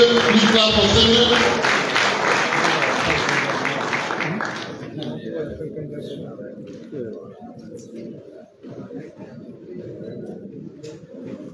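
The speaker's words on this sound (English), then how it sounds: "please clap for Singer" An audience claps for Augustine Singer at a joint inter-sectoral at-risk youth empowerment gathering. Dense, loud applause fills the first few seconds, then fades into quieter room murmur and voices.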